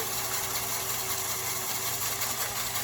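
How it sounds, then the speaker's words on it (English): A small motor inside a custom LEGO RC model runs with a steady, even hum and faint whine, holding a constant pitch close by with no speech. "Now I'll just run the little engine."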